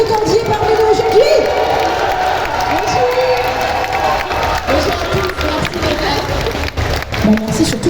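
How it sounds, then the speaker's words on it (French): A fan-event crowd at a Japan Expo conference cheers, whoops and applauds for an arriving guest, the noise loud and sustained throughout with shouts rising above steady clapping. "je vous demande d'applaudir et de continuer à crier Brigitte Lecordier parmi nous aujourd'hui."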